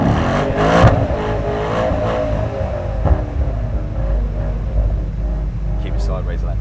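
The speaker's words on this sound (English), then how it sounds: "Give it a skid, Sid." Mercedes-AMG E63 S engine revving loudly and continuously while drifting sideways on a track, with a steady roar throughout and some talk over it.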